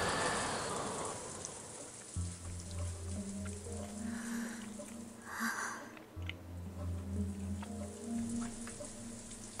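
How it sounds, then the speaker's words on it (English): Steady rain with a broadband hiss, heard in the Umineko: When They Cry visual novel, runs throughout over a low sustained music drone and a few faint drips. "He expects me to sit in the darkness for a full hour, listening to only the wind and the rain."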